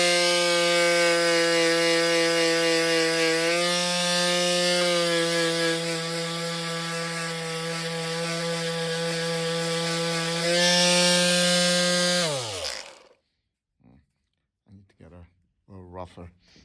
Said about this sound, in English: Now I'm gonna get my little sander and try to sand a little bit.